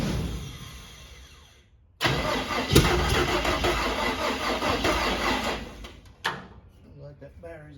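A cab-over conversion van engine with a weak battery cranks sluggishly, catches and runs rough for several seconds, then cuts off, followed by a short click and rattle close by.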